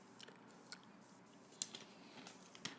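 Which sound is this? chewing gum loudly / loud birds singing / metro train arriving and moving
chewing gum loudly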